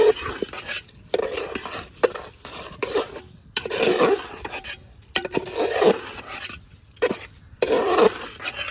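Rice, potatoes and lentils being stirred and fried in a pot, with repeated scraping and clinking strokes in bursts separated by brief pauses, close and moderately loud.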